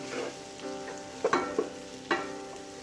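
Turmeric, chili powder and chicken masala being stirred into a frying pan for potato bonda filling, with a steady low sizzle and several distinct spoon scrapes and knocks against the pan, close and alone with no talking.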